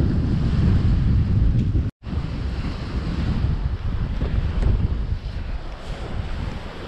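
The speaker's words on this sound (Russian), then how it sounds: "Капец, там ветер сильный." A strong northerly storm wind roars at a shoreline carp fishing spot, buffeting the microphone in a constant loud rumble with a brief dropout, and surf sounds sit beneath it.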